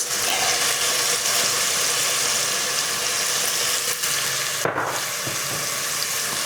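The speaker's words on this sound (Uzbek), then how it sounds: "Hammasini baland olovda qovuramiz" Loud, continuous sizzling and crackling of meat and onions frying over high heat in a hot pan, a steady hiss with a brief stir or clatter midway.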